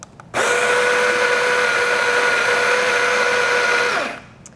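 A Rocket Appartamento espresso setup's coffee grinder whirs loudly and steadily for about four seconds as it grinds espresso into a portafilter, starting abruptly and winding down at the end, close and alone.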